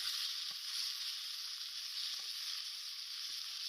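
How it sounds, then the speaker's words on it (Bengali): Yardlong beans fry with cumin in a pan, giving a steady, even sizzle that holds from start to finish at moderate loudness, with a few faint soft knocks underneath. "আমি জিরে দিয়ে দিলাম এরপরে বরবটিগুলো কড়াইতে ঢেলে দেব ভালো করে দু থেকে তিন মিনিটের মতো আমি এটাকে ভেজে নিলাম"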